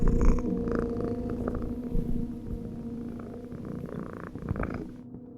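A cat purring in the horror video game Befriended Curse, a continuous low rumbling purr held steady and close, with soft game ambience underneath before it cuts off near the end.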